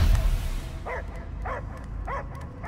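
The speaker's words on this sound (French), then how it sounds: "J'entends que des aboiements." A dog barks in Marvel's Guardians of the Galaxy, three or four evenly spaced, fairly loud barks following a low rumble at the start, with no talking.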